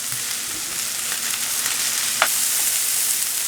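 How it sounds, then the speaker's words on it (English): Sea beans sauté in a little olive oil in a hot pan, giving a loud, steady, even sizzle throughout with a faint crackle partway through and no voices. "Now we're going to saute the sea beans in a little bit of olive oil."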